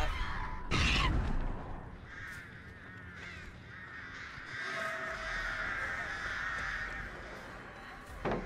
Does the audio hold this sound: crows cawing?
yes